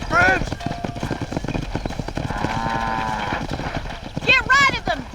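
Horses clop along a dirt road in the Red Dead Redemption video game, a busy patter of hooves with a couple of whinnies, while voices talk and call out to drive the herd.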